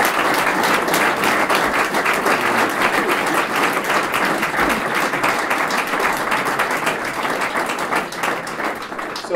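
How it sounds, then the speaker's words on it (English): A long round of audience applause after a speaker at a business coalition talk, loud, dense clapping sustained for over nine seconds that thins only slightly near the end. "Let's give Susan a round of applause."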